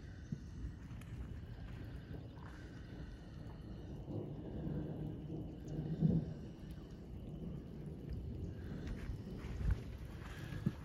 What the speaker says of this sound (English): You may hear thunder